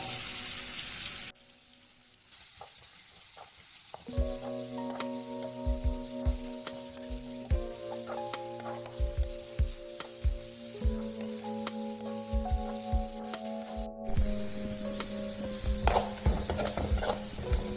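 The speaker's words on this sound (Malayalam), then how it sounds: "ഇത് വെളിച്ചെണ്ണയിൽ നല്ല ബ്രൗൺ നിറമാവുന്ന വരെ വറുത്തെടുക്കണം" Onions sizzle and crackle in hot coconut oil with steady frying hiss, punctuated by repeated scraping and stirring knocks of a utensil against the pan.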